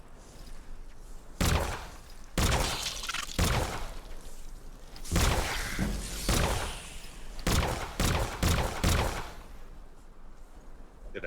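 Fire spell blasts cast in Skyrim, arriving as a string of loud, bursting whooshes and thuds, several separated by short gaps and some clustered close together near the end.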